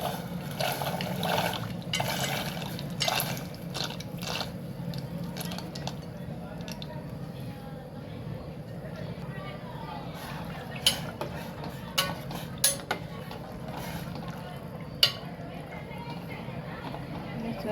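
Pasta tipped into a pot of hot water with salt and oil, then stirred: soft sloshing and bubbling with scattered clicks and scrapes of a utensil against the pot, while someone talks throughout.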